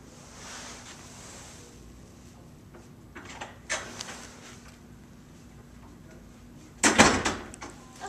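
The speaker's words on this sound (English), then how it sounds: "I got that door open too" A door is pulled open outdoors in a breezy spot, giving one short, fairly loud burst of rattle and scrape over steady wind hiss, with a few fainter knocks before it.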